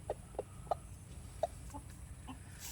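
Chickens on a homestead cluck in a few short, spaced calls, fairly close over a steady low background hum, with a faint higher chirp near the end.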